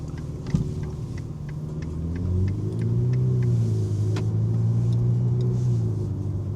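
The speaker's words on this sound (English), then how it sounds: "I am driving a Ferrari." A Ferrari sports car drives along with a steady low engine rumble that swells as it accelerates, with faint clicks over the top and no talk.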